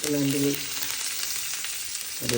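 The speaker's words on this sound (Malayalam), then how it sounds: "നമുക്ക് ആ മീനൊന്ന് പൊരിച്ചെടുക്കാൻ വേണ്ടിയിട്ട് കുറച്ച് കുറച്ച് എണ്ണ മതി വെളിച്ചെണ്ണ ഒഴിച്ചു കൊടുക്കുക" Mackerel frying in coconut oil with curry leaves, a loud continuous sizzle heard up close, with a brief tonal sound at the start and near the end.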